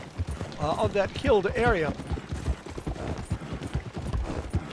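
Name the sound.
horse hooves in video game Red Dead Redemption 2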